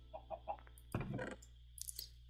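A chicken in the Minecraft video game gives a few short, soft clucks, followed by a louder rustling burst and a faint chirp, quiet overall with no speech.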